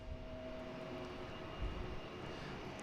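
A United jet airliner on the runway at Boston Logan, heard as a steady, rumbling engine roar with a faint tonal whine, fairly distant and quiet.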